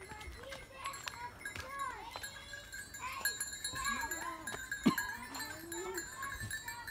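Baby goats and adult goats bleat repeatedly in a farm yard, wavering calls overlapping at close range, with people talking throughout.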